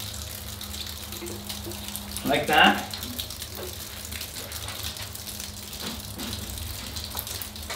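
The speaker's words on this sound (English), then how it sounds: "You can see the excess water running through the pots and down into the gravel section there." Excess water trickles through bonsai pots and drains into a gravel bed in a glass greenhouse. It makes a soft, steady wash with one brief louder gush midway, under a quiet background hum, while a person speaks briefly.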